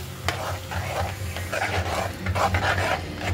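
Boiled black peas clatter and scrape in a pan as they are poured in and stirred, with dull knocks of a utensil against the metal.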